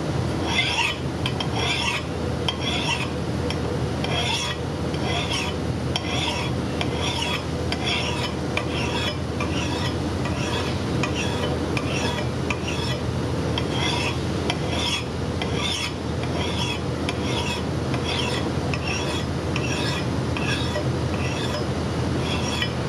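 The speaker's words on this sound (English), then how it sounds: "So that's what you call push filing." A file is pushed along an axe blade clamped in a vise and padded with a leather glove, giving continuous steady rasping strokes that run unbroken the whole way through, with faint metallic clinks now and then.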